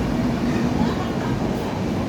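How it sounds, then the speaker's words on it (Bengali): At a railway station a departing train gives a steady, dense low rumble that stays even for the full two seconds, with people talking faintly in the background. "টাটা, ট্রেনটা বেরিয়ে গেছে।"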